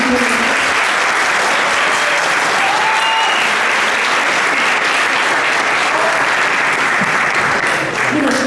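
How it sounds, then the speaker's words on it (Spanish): Audience applause after professor Dexy's talk at a mathematics conference for first-semester students: a steady, dense wash of many hands clapping that holds for several seconds. "Agradecemos a la profesora Dexy, que le damos un fuerte aplauso por su presentación"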